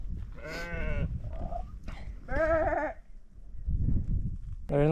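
Goats bleating on farmland near a hiking trail in the Ecuadorian highlands, several wavering bleats from a few animals at moderate distance, with outdoor background noise between calls.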